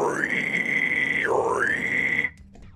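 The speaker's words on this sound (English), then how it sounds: "when I will scream it with the same tongue placement, the same mouth shape, I'm gonna have a peak squeal" A sustained high vocal peak squeal scream, held steadily, dipping and rising once in the middle, then climbing back before stopping abruptly, close and loud.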